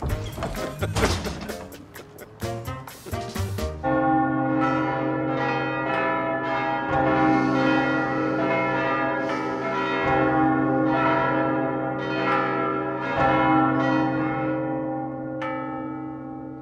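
A church bell rings loud and close, its clangs striking at a slow, regular pace and each long, humming tone overlapping the next. A jumble of crashing knocks comes just before the first strike.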